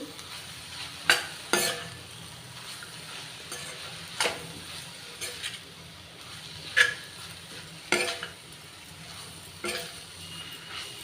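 Ponnaganti greens frying with chili powder in a pan, stirred with a spatula: a steady sizzle under repeated sharp scraping strokes at irregular intervals, no talk.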